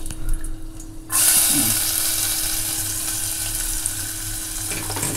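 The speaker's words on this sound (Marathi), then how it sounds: "जर आपण परतून घेऊया, थोडासा त्याचा रंग बदलायला हवा ना कांद्याचा, लसूण" Chopped onion, garlic cloves and curry leaves drop into hot oil in a pan and sizzle loudly, a steady close frying hiss that keeps going after a brief quieter lead-in.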